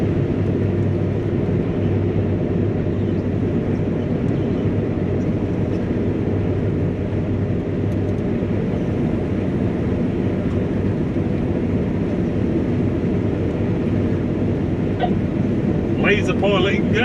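A Claas Lexion 670 Terra Trac combine harvester runs with a steady, loud low engine roar and droning rumble that holds throughout, heard from the cab, with a few brief clicks near the end.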